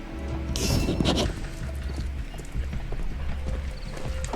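Cab horse hooves clopping on a street in the Sherlock Holmes: The Devil's Daughter video game, steady rhythmic clip-clop at close range with a brief burst of louder noise near the start.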